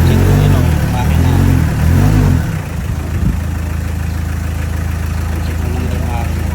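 Engine of a 2016 Hyundai H100 van catching and settling into a steady idle, a loud low rumbling churn giving way to an even, continuous hum with a faint clunk as it steadies.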